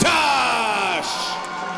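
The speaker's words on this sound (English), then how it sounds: "as you can hear the crowd, they are going nuts for one Cameron McIntosh" A fight crowd in an arena roars and yells for fighter Cameron McIntosh, a loud, sustained wall of cheering across the whole moment, with shouts rising above the din.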